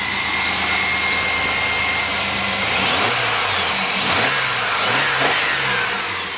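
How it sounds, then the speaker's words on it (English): The engine of a GMC Sonoma pickup runs after a repair for a misfire, a steady idle under broadband noise with a few revving blips rising and falling in the second half. "She's gonna go ahead and crank it up if she can turn the key."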